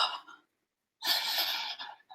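Someone breathes heavily and audibly during a full-body shaking exercise, a short breath, a pause, then a longer forceful exhale followed by quick smaller breaths, close and alone.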